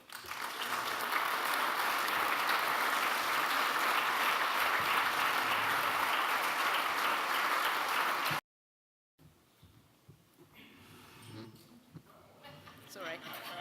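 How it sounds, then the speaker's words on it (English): An audience at a landmine-clearance awards speech event applauds the deminers: loud, sustained clapping from a large hall crowd that cuts off abruptly, followed after a brief gap by quieter room noise and stirring. "please join me in applauding their brave work."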